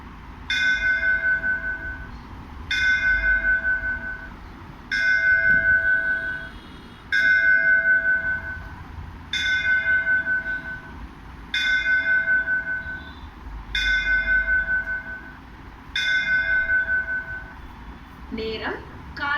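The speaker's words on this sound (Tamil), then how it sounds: "மணியோசை" The bell of Sri Mariamman temple in Mel Alathur, Vellore district, India, rings eight times at a slow, steady pace at 8 a.m., each clear metallic strike ringing out over faint background murmur.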